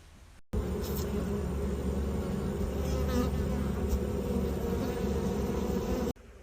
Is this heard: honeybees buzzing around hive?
yes